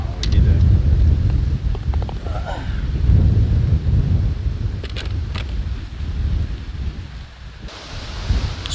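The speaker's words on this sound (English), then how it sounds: "It's a wee bit windy" Strong wind buffets the microphone on an exposed golf course hole on the Isle of Arran beside a river, a loud, continuous roaring rush with gusts rising and falling throughout.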